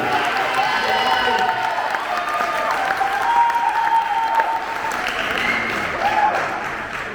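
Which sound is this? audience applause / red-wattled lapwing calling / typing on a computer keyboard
audience applause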